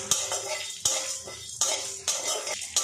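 Spices for a fasting-day sabudana and potato recipe are stirred in a pan on low heat, with a handful of sharp metal spatula strikes against the pan, each followed by a brief scraping rustle over a faint sizzle.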